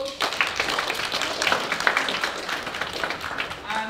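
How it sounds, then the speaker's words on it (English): Applause in a school Year 7 assembly for a student collecting a certificate, dense sustained clapping from a crowd of pupils, steady and fairly close throughout. "Can we have your round of applause?"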